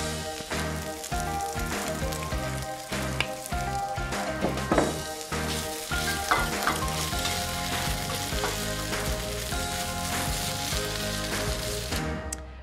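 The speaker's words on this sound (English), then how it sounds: "So we have just browned our meat." Pork browning in hot oil in a pan for moo shu pork, a loud continuous sizzle and crackle with occasional stirring scrapes, close up and without speech.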